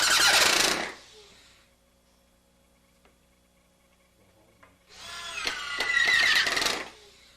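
A power driver sets 1.5-inch bugle head screws into an oak-veneer door jamb, two loud whirring bursts close by with a quiet pause between them, the second longer and grinding as the screw seats.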